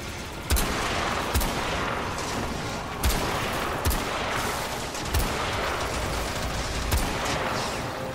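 Gunfire from guns in the video game Warframe during a void defense mission: loud, evenly spaced shots about every second, each a sharp crack over a dense, constant roar of battle noise, with no voices.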